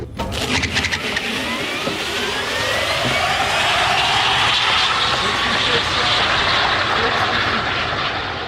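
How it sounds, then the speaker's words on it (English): Electric car launching at full throttle down a drag strip: a high motor whine climbs steadily in pitch over a bed of broad road and wind roar, building and holding loud for several seconds. "I just got off the brake with my right foot and went straight to the gas pedal and went full throttle."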